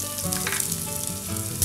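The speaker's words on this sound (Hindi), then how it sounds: "प्याज को चलाते हुए भून लेंगे" Finely chopped onion sizzles and crackles steadily in a hot pan, a continuous close frying hiss with faint stirring.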